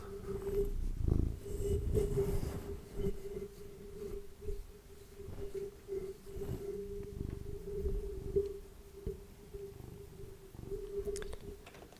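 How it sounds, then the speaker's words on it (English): A cat purrs close to a microphone, a soft rhythmic rumbling with a steady low hum beneath, swelling and easing in waves over several seconds with no speech. "You can purr into the mic though"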